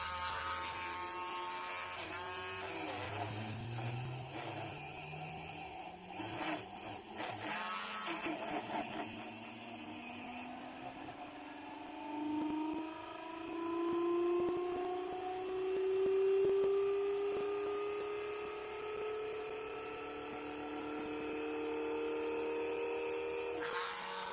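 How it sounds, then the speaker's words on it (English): A steady electric whine rises gradually in pitch as a drill spins up a generator, holding a high, buzzing hum that fluctuates slightly before settling. "I'll use my drill to get it going a bit like this."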